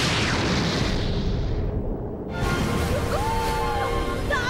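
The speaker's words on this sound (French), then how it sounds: "Ça va faire exploser." A huge explosion from a One Piece anime battle scene: a loud, sustained rumbling blast that dips briefly before a second surge of roaring debris and ringing tones, with voices faintly in the mix.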